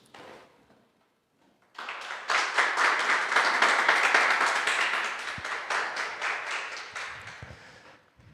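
A church congregation breaks into applause during a service, a brief quiet giving way to dense, rapid clapping that swells, holds and then tapers off.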